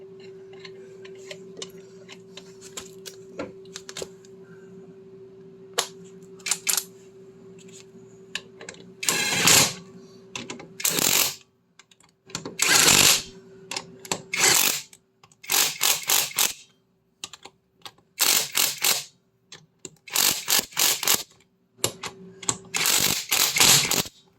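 Tools rummaged through in a home garage while hunting for a socket during Triumph Spitfire rear hub work: scattered light ticks and clicks, then repeated loud metallic clatters and clanks in bursts, close by.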